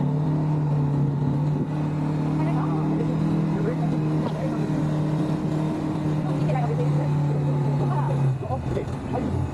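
An ATV engine drones steadily with a constant low hum as the rider gradually adds throttle, the pitch holding then dropping away near the end, with a person talking over it.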